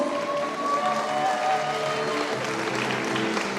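Audience applause at a Georgian children's and youth song contest and festival, a steady dense clapping from a large crowd lasting several seconds, with faint tonal music or voices underneath.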